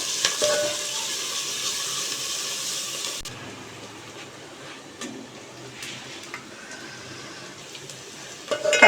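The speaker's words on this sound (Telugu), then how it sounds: "క్యారెట్ని కూడా బాగా వేయించుకోవాలి" Chopped onions and carrots fry in a pan for poha upma, a steady sizzle with occasional stirring scrapes; the sound drops suddenly partway through and continues more quietly, with no voices.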